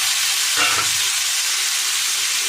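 Tomatoes and four green chillies frying and sizzling in a pan as they are stirred, with a steady hiss and a short scrape of stirring near the start, close and fairly loud.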